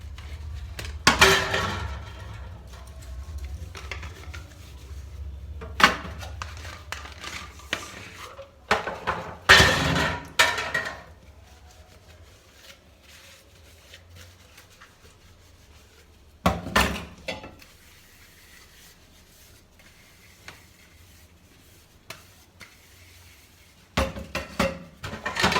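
Kitchen utensils and shakers being scrubbed and washed, with intermittent clatters, knocks and scraping of metal and wood pieces against each other and the sink, separated by quieter rubbing stretches.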